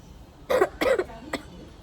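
Three quick, close coughs in a row, the first two fuller and the last one short and lighter.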